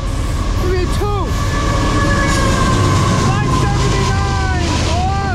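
A CSX freight train sounds a short friendly horn toot, its tones riding over a loud, steady rumble of the passing train.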